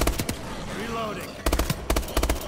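An ARX-160 rifle fires in Exo Zombies, with short, sharp bursts of rapid shots in quick clusters, loud and close, and game sounds in the gaps between bursts.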